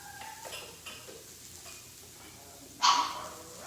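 Pet puppies whine and beg in a home kitchen while eggplant and spaghetti squash cook, their faint high cries heard over quiet sizzling and a sharp clatter near the end.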